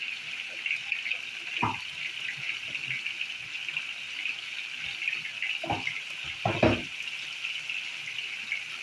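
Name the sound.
water poured into masala while cooking prawn curry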